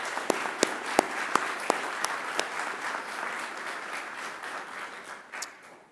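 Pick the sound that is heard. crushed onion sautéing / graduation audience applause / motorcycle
graduation audience applause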